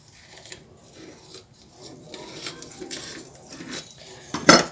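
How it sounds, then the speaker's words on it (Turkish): A cutter presses and rolls through thin homemade spinach pasta dough, giving a soft continuous scraping rub close by, ending in a brief sharper clatter. "bastırarak kesiyorum ve gördüğünüz gibi bu şekilde incecik açılıyor"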